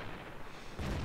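A T26E4 SuperPershing tank in the video game World of Tanks fires its main gun at a Tiger. A single sharp, booming shot bursts out near the end after a brief low rumble.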